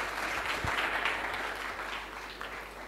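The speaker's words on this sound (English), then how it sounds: "let's give him a round of applause" A crowd at a Mafukuzela Day event gives a round of applause, a soft diffuse wash of clapping that fades slightly toward the end.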